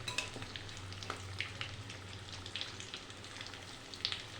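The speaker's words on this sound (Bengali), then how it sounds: "ভালো করে লাল লাল করে ভেজে নেব। খুন্তি দিয়ে একটু আমি উল্টিয়ে দেব।" Pieces of egg, potato and flour frying on a very low gas flame, a quiet steady sizzle with faint crackles and occasional light pops, the pan otherwise calm.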